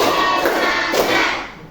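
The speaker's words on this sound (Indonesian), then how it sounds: "Tepuk satu, tepuk dua, tepuk tiga" A classroom group clapping hands in counted rounds makes dense, close bursts of claps that blur together, fading slightly toward the end.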